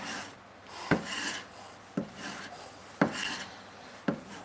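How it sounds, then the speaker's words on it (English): Steel blade drawn across a leather strop loaded with cutting compound, four separate rasping strokes about a second apart, each one starting with a sharp onset and fading into a soft scrape, close and moderately quiet. "I tend to use a bit of leather, it's got cut and compound in it. Do about 20 strokes with that."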